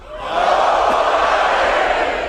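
A live audience breaks into steady, sustained applause at a 2016 Michigan football event, loud and continuous throughout with a crowd wash and no talk over it.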